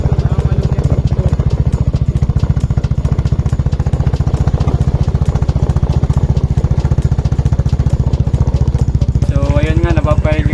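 A scooter with leaking gear oil, a crackling gearbox and a shaky rear wheel runs with a fast, loud, steady mechanical clatter as the throttle is worked, and a voice talks over it near the end.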